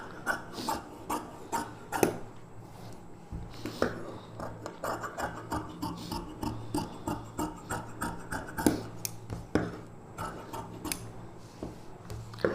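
Scissors cut lining fabric for a lehenga blouse in a steady run of close, crisp snips and rustles, with occasional louder clips and no talking.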